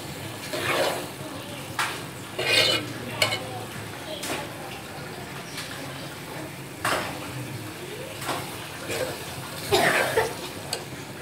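Besan dumplings fry in a pan over a high flame, a continuous sizzle with repeated louder stirring scrapes and clatters against the pan, and no talk.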